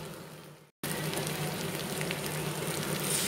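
Water poured into frying crab curry in a pan, which breaks into a steady, loud sizzle and bubbling after a brief silent gap.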